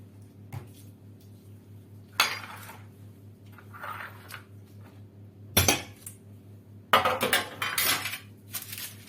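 A metal baking tray being greased for pizza, with sharp metallic clinks and clatters in several separate bursts against a quiet background, close by and without speech.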